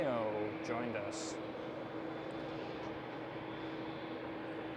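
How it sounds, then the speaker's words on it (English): A Delta Airlines Airbus A330neo jet airliner at Schiphol gives a steady, fairly faint engine roar with a falling whine early on, holding evenly through the clip while a voice talks over it. "Right there in your view we have a Delta Airlines A330 Neo joined us"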